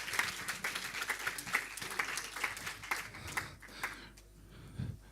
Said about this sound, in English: let's give Eric another round of applause